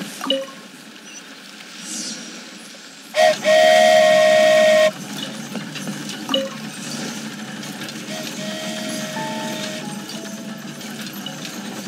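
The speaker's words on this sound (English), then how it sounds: "What it feels like to ride a toy train" A toy train in the video game Genshin Impact lets out a loud, sustained steam whistle blast lasting about a second and a half, set against a soft mechanical rumble and a few lighter chimes.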